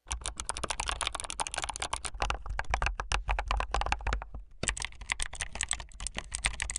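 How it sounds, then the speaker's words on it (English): Mechanical computer keyboard typing, with rapid, dense, crisp key clicks heard close up and continuously, briefly pausing before resuming at a quick pace. "the clicks from the keyboard are like tickling my brain as well"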